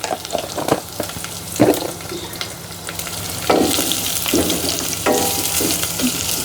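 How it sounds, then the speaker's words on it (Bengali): Half a cup of chopped onions frying in oil over medium heat for a Bangladeshi pigeon curry, a steady sizzle broken by repeated scraping stirs of a spatula that swell louder midway, with no talking. "দিয়ে এটাকে বাদামি করে ভেজে নেব"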